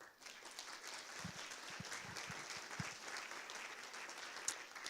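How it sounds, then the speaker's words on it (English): An audience at a Dublin citizens' assembly meeting gives a round of applause, a fairly faint, even patter of many hands clapping in a large room, with a few louder individual claps standing out. "So please give them a round of applause."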